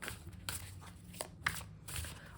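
Tarot cards are shuffled by hand during a reading, a soft, quiet riffling and slapping in short bursts with no voice over it.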